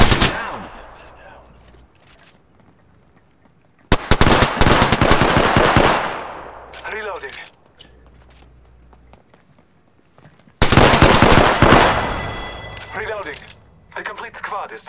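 Apex Legends gameplay gunfire comes in two long dense bursts of rapid automatic shots, loud and close, with quieter gaps, scattered single shots and footsteps between them, and a voice talking over parts of it.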